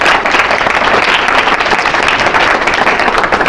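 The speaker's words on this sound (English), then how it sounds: "let's welcome Lorenc and Yu with a big applause." A lecture audience at Georgia Tech applauds to welcome the speakers to an industrial design talk: dense, steady clapping from a large crowd, loud and close, filling the whole span without a break.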